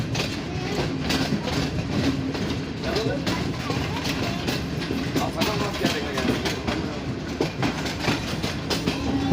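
The Karakoram Express rolls into Lahore Junction with rhythmic clickety-clack of wheels over rail joints and a low rumble of carriages, steady and close, with a voice speaking over it.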